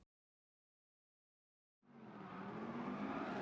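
A Chevrolet Corvette C1 '58 drifts around Suzuka in Gran Turismo 7, its engine roaring in after a long silence and holding a steady, loud, sustained drone with tire noise through the rest.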